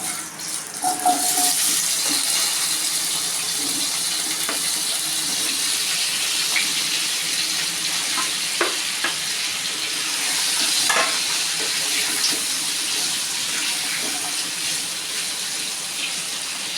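Papaya and potatoes hit hot oil tempered with a bay leaf and sizzle steadily and loudly, with light stirring clicks and scrapes running through the frying.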